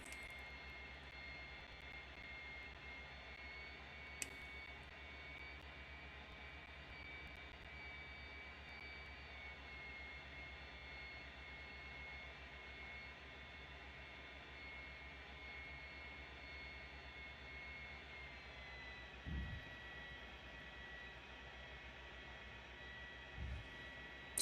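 A jet airliner cruises in Microsoft Flight Simulator, its steady engine drone and low rumble holding continuously throughout with a few faint clicks, no talking.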